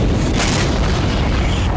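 Russian missiles striking Ukrainian areas near the Polish border, a loud deep boom that swells into a dense, sustained roar.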